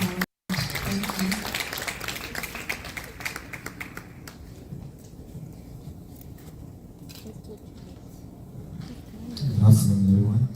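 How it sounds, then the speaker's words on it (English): A crowd at a Women in Architecture annual general meeting claps as a speaker comes forward. The clapping is dense at first, then thins to scattered claps, and a voice starts speaking near the end. "Please let's clap as he comes forward."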